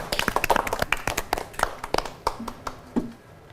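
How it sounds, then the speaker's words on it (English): A few hands clap in quick, sparse bursts, close and fairly soft, tapering off near the end with a brief hum of voice. "Applause."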